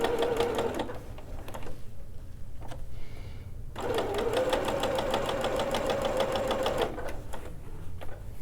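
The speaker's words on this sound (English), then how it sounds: "I'm going to sew the pocket bags together." Sewing machine stitching two fabric pocket bags together with a half-inch seam, a steady mechanical whirr running in two long bursts with a short pause between, close and loud, no talk.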